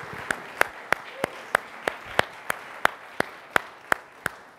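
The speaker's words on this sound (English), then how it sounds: "How about another round of applause for our experts?" At a Sony α7R III camera introduction press event, a small audience gives sparse, steady clapping: distinct single claps land at an even, slow rhythm, fairly quiet in a room.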